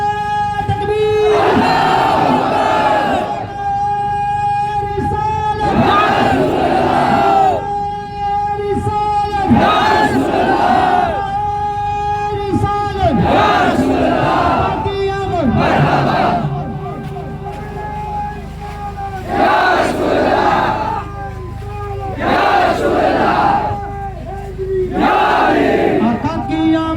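A large crowd at an Eid Milad-un-Nabi procession chanting the Takbir slogan in loud, repeated call-and-response bursts, voices swelling in rhythmic waves over a constant outdoor rumble.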